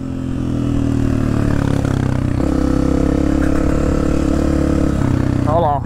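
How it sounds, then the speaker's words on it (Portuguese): Many Honda CRF dirt bikes ride a muddy trail, their engines forming a loud, continuous, steady drone that holds for several seconds, with brief voices heard at the end. "Olha o tanto de moto."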